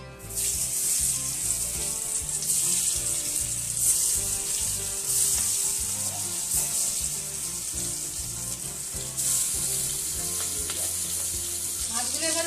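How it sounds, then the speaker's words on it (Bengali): Fish fries in oil left over from frying onions and potatoes, a loud, steady, dense sizzle that carries on unbroken throughout, with faint clattering underneath. "পেঁয়াজ আলু ভেজে তেলটা বেশি হয়েছিল সেই তেলেই আমি মাছটা নিয়ে দেবো"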